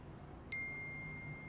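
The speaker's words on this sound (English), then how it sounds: "he just sent a text message" Text message notification: a single bright, clean ding rings out once and fades slowly over a faint, quiet background.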